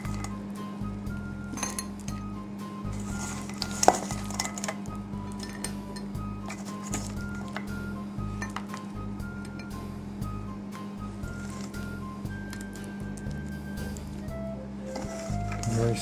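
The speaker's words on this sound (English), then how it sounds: "any kind of little baking dishes you got, you put it in there" Small baking dishes clink and tap repeatedly while rum bread pudding is filled in, light glassy knocks scattered over a steady low kitchen hum, with one sharper clink standing out.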